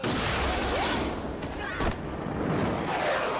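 A cartoon missile launch sound effect plays, with a whooshing, roaring burst and a couple of sharp thumps in the middle, amid a dense, noisy cartoon soundtrack.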